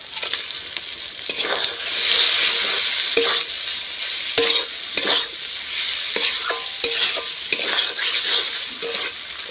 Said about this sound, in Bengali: ডিমটা কষানো হয়ে গেছে